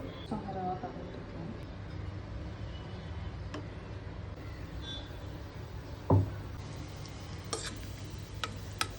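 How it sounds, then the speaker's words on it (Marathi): Semolina (rava) roasting in a pan on a home kitchen stove, stirred with faint scraping and soft ticking, plus one sharper clack partway through, over a low steady hum. "तर मी रवा भाजून घेते."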